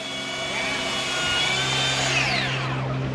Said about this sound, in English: Hey, you're using the new sander.